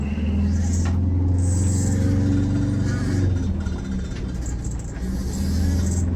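An old car engine that sat stored for 20 years pulls up a hill, a steady close engine drone and rumble with no one talking.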